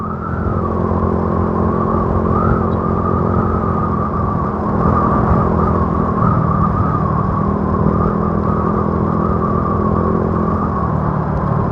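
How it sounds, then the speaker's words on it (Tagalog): A motorcycle ridden through traffic on a road toward Laguna in the Philippines, its engine droning steadily and loudly close by, with continuous road and wind noise and no talking. "Para na rin kayong nakaangkas dito sa motor ko."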